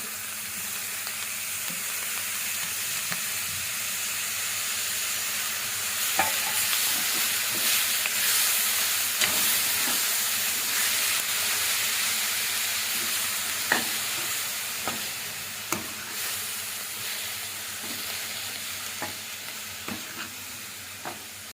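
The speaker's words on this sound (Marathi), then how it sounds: "आता यात आपण जवळा टाकणार आहोत आणि तो व्यवस्थित या मसाल्यांसोबत परतून घेणार आहोत।" Dried shrimp (jawla) being sautéed with spices in a hot pan, a continuous hissing sizzle with intermittent spatula scrapes and taps, close and fairly loud, with no talking.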